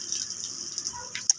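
Water gushes steadily from a Jetmatic hand pump in Gloria, Oriental Mindoro, a close, continuous hissing flow with a small splash near the end.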